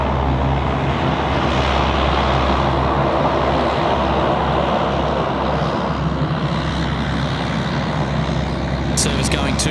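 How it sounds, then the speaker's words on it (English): A Rex Saab 340 turboprop taxiing at Sydney Airport at night, heard as a steady, loud broadband engine drone that holds evenly throughout, with a few sharp clicks near the end and a faint trace of talk underneath. "Here we go, the Rex 340. Of course, now just taxiing in front of us."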